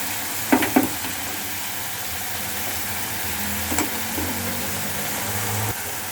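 Masala sautéing in a pan for an egg curry cooked without coconut, a steady low sizzle with a few sharp clinks of a spoon against the pan early on and again midway.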